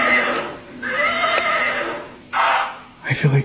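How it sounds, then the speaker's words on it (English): A horse whinnies loudly and close by in two drawn-out neighs, followed by a short snort, with a person speaking briefly near the end. "Is that your horse?"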